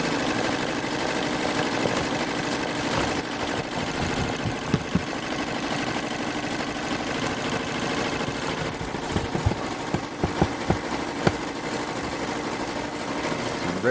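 A Blue Sky 1501 embroidery machine sews steadily, its constant mechanical hum and rapid rhythmic stitching running nearby without pause, with a few sharper clicks standing out toward the end.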